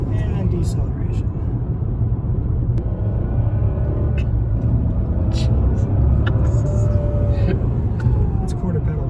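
Mercedes CL600 V12 Biturbo with Renntech tuning accelerating smoothly at quarter pedal, a steady low engine rumble heard from inside the cabin, continuous and even throughout with a few faint clicks and rattles.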